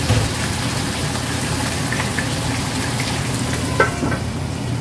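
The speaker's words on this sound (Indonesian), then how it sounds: "Aku gorengnya satu-satu karena ikannya gede banget." Large fish frying one at a time in hot oil in a pan in a home kitchen, a dense, steady sizzle and crackle close up, with a few brief pops and no talk.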